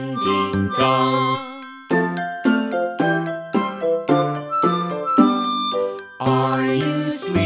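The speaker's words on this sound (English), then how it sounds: "Brother John, morning bells are ringing, morning bells are ringing, ding, ding, dong" Bright, bell-like chimes ring out the Frère Jacques melody in a children's nursery rhyme song, struck as a steady run of close, clear notes with no pause in the tune.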